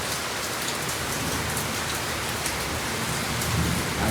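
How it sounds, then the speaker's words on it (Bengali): Heavy monsoon-style downpour in Siliguri, loud and continuous, a dense unbroken hiss of rain pounding surfaces close by with no voices. "মুষলধারে বৃষ্টি পড়ছে এখন।"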